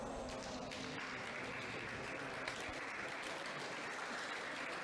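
Squash crowd at a final between Victor Crouin and Auguste Dussourd breaking into tentative, scattered clapping that fills the space steadily and close.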